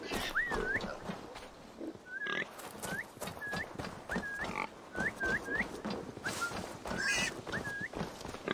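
A pig grunts and squeals repeatedly during a pig hunt in the game Assassin's Creed Valhalla, a dozen short rising calls spread across the clip over soft background noise, fairly close.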